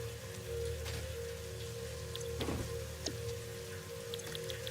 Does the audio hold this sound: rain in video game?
yes